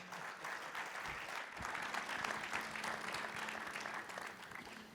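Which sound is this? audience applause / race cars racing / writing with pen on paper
audience applause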